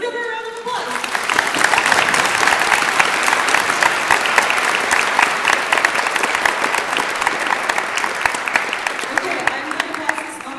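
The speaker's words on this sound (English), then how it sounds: "So let's give her a round of applause." Sustained applause from a concert audience at a school district orchestra event, dense steady clapping filling the room for about ten seconds after a brief spoken intro.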